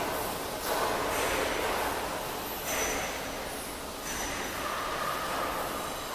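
A roll forming machine for sound absorbing panels, driven by an 11 kW motor, runs with a loud, continuous broadband roar and metallic grinding and squealing, with slight swells in level and no speech.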